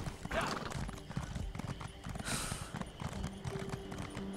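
Rhythmic video game horse hooves clip-clopping at a steady pace, with a brief whinny and some background murmur, moderately close.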